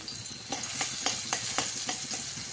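Chilli and garlic paste hitting a hot kadhai, a steady close sizzle and hiss with regular scraping stirs from a spatula, no speech.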